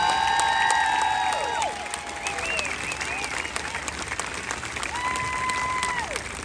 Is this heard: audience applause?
yes